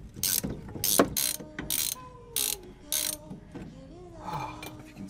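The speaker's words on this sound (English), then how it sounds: "Need one size smaller wrench." A ratchet wrench clicks in short, close bursts while loosening rear suspension nuts on a 1969 Ford Ranchero, with pauses between strokes and faint creaks and mechanical tones in the quiet garage.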